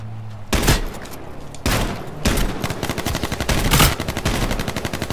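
Sharp bursts of AK rifle fire in a video game, several loud volleys of rapid shots separated by short gaps, close and dominant.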